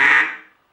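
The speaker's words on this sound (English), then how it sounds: "So to make this call actually sound like a duck" A single nasal, buzzy mallard hen quack blown on a duck call, loud and close, fading out over under a second.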